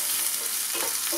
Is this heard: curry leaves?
yes